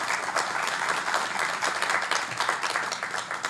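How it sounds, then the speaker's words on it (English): An audience at an annual general meeting breaks into a steady round of clapping, a dense, even patter of many hands sustained throughout with no voices over it. "Round of applause to you."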